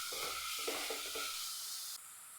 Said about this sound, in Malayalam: അല്പം ചിക്കൻ മസാല, നല്ലപോലെ ഒന്ന് വഴറ്റിയെടുക്കും